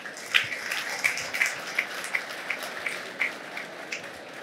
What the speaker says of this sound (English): First, a big applause for you.